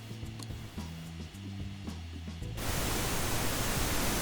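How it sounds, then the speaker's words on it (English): A low tonal hum with faint ticks gives way to a steady, loud wash of pink noise test signal hiss that continues evenly to the end. "Noise. Pink noise."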